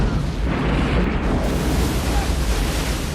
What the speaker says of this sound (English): I saw the missile explode behind the sub.